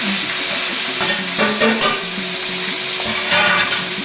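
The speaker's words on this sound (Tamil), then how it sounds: "அப்புறம் தக்காளி வெங்காயம் மிக்ஸ் பண்ணவும்" Tomato and onion frying in hot oil with cinnamon, cloves and other whole spices, a loud, continuous close-up sizzle with stirring scrapes and a few utensil knocks against the pan, no voices.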